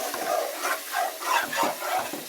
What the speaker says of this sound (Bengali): এখানে পেঁয়াজ দিয়ে ভুনা করে নিচ্ছি।